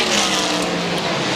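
Bill Elliott's McDonald's Ford NASCAR stock car roaring at speed, a loud, continuous engine drone blended with dense crowd and track noise, close and unbroken.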